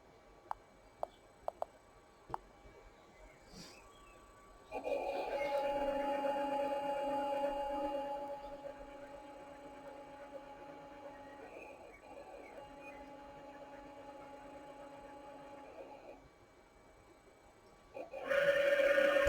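Servo motor spinning a 40:1 planetary gearhead at top speed for a machine C axis, a steady mechanical whine and hum that starts after a few faint clicks, holds for several seconds, stops, then starts again.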